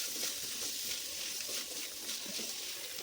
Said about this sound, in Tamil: இந்த சைடு சாம்பாருக்கு வெங்காயம் நல்லா வணங்கிருச்சு